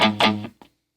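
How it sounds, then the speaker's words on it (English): Two short crunchy distorted strums from an Enya Inspire smart guitar ring out close and loud, then cut off quickly into silence. "Hit it again, and now you've got a distortion tone."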